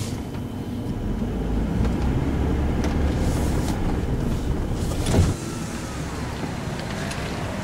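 A van pulls away, its engine giving a steady, loud low drone with road rumble, plus a brief thump partway through, and no talk over it.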